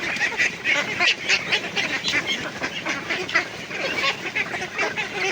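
Ducks quack and honk repeatedly nearby while feeding on chopped banana stalk mixed with rice bran, a busy, overlapping chorus of calls at fairly loud level.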